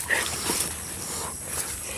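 A dog moves about a vegetable garden in the Philippines, its brief yips and whimpers mixed with footsteps and rustling, close by, while someone talks over it.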